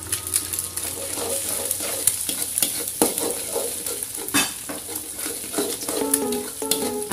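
Fried rice with petai stirred in a hot pan, steady sizzling under repeated scraping and clinking of a utensil against the metal, loud and close throughout.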